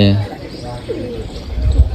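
Low pigeon coos rise near the end, partly under people talking nearby.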